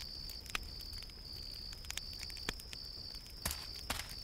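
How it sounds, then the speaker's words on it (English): Insects around a trash heap in a video game: a thin, steady high chirping hum runs throughout, broken by a few sharp clicks and taps at a moderate level. "the swarm of insects fluttering around the merchandise don't either"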